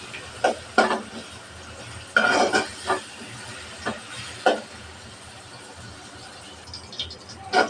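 Chopped onion and garlic frying in oil for an egg and potato curry, with intermittent bursts of sizzling and stirring scrapes against the pan, fairly close, separated by quieter hissing gaps.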